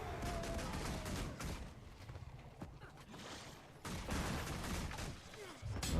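Pistols in the fantasy game Guild Wars 2 fire as rapid, crackling shots in irregular bursts over combat noise, fairly loud, easing off mid-way before returning strongly at the end.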